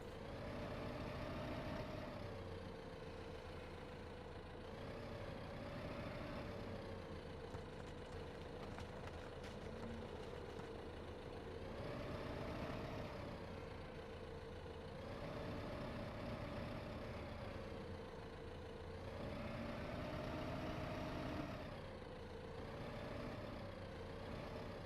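A tractor engine in the Farming Simulator 15 video game runs steadily at a low, droning idle with slow swells in pitch, fairly quiet and heard alone without talk.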